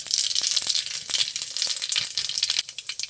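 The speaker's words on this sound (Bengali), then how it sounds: "এবার দিয়ে দেবো তেলে 5 ফোড়ন" Panch phoron spices frying in a little hot oil in a kadai over a stove, a busy close sizzle with scattered sharp pops and crackles throughout.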